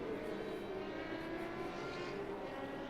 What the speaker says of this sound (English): All you hear is that screaming V10, dude.